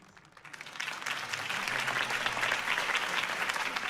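Crowd applause following a campaign speech in Batman: The Telltale Series, a dense wash of clapping that builds quickly from a quiet start and holds steady and full for several seconds.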